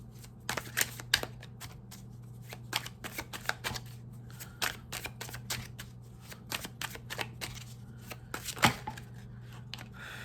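Tarot cards are handled, shuffled and drawn, giving a steady stream of crisp flicks and snaps with an occasional louder slap over a low background hum.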